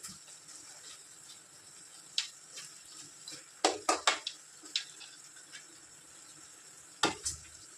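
Quiet kitchen scraping and clinks as a spoon stirs mutton curry in a pot, scattered knocks against the metal over a faint low simmer.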